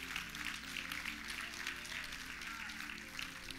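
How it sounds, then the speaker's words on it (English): A church congregation claps in praise throughout a building, a dense, steady wash of many hands with a sustained musical tone beneath it. "give God a hand clap of praise all over this building"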